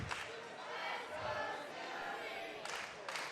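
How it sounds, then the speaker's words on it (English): A crowd cheers and shouts at a live Tetris tournament, the family and friends of one player forming a cheering squad; the loud, dense roar holds steady throughout with bursts of shouting. "And of course, Scuti's cheering squad over here."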